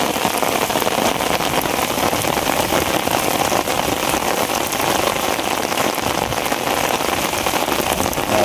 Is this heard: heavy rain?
yes